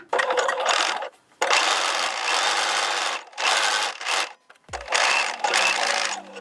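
A sewing machine stitches parallel lines on fabric for a bodysuit, running in several loud, close bursts of rapid whirring stitches with short gaps between runs and a brief click near the end.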